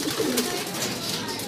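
Pigeons coo softly in a backyard loft, low murmuring calls overlapping in a quiet, short stretch with faint background noise and no speech.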